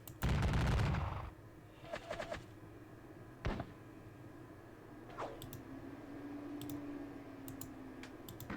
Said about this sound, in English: The guns, for the most part, are doing their job.